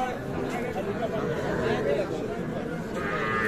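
Sahiwal calves and cattle at a busy livestock market, Ambari haat in Dinajpur, with steady crowd chatter and bustle throughout, animal calls blending into the noise.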